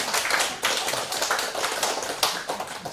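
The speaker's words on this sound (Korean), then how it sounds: "박수 한번 해줘요" A church congregation claps together during a Sunday sermon, a dense run of quick overlapping handclaps that keeps going without a break, fairly close and lively, with no talking over it.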